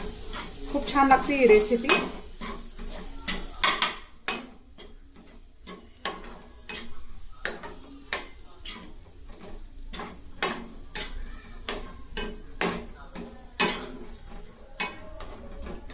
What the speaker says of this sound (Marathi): थोडं कमी आचेवर, मंद आचेवर परतून घ्यायचं